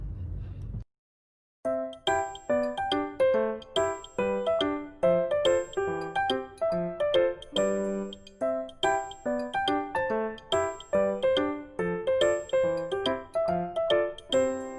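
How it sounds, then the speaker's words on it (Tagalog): A bright ding-dong notification bell chimes over and over in a steady, ringing pattern, loud and close, with no talking over it, following a short muffled sound at the start. "And click down the notification bell"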